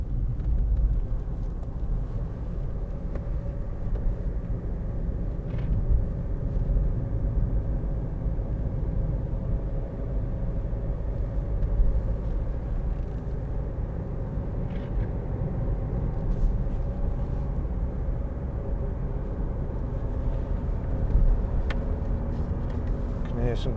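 A 2014 Audi A1 1.6 TDI Sport cruising on the motorway gives a steady low engine and road rumble with constant tyre roar throughout.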